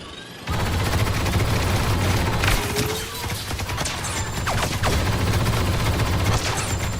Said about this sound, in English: Laying down covering fire.